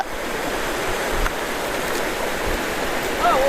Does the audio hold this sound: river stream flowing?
yes